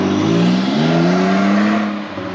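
A car revs hard as it makes a flyby, a loud close engine note climbing and holding before easing off as it passes and fades slightly.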